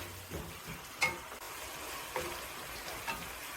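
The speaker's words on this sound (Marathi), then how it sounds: "डाळ पण थोडी आपण छान परतून घेऊया" Chana dal being sautéed in a pan for a spring onion stir-fry, a soft, steady sizzle with a few light scraping stirs, close and fairly quiet with no one talking.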